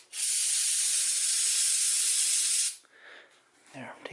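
Aerosol water sprays onto a clutch from a neglected NV4500 transmission on a Cummins-swapped truck, giving a loud, steady hiss for under three seconds before cutting off into quieter handling noises.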